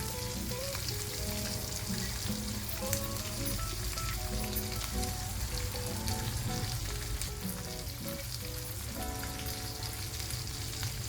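Asafoetida hitting hot oil while tempering for mango pulihora, giving off a steady, dense sizzle and crackle that carries on without pause and with no voices.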